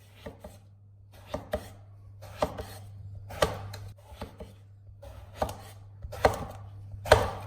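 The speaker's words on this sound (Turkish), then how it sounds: "Şimdi bunları 4 parçaya ayıracağım" A knife cuts eggplants into four pieces on a board, with about ten distinct close chops spaced irregularly over a low steady hum, no voices.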